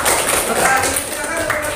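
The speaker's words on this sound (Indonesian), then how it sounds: "Tepuk tangan ya buat kelompok 3." Students in a classroom clap for group 3, a brief burst of applause running under a teacher's voice.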